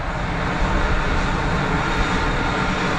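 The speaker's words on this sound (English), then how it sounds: "EasyJet's cranking up," EasyJet jet engines spooling up at Geneva Airport make a loud, continuous roar with a heavy low rumble and a broad rushing hiss, holding steady with slight swells, and no voices.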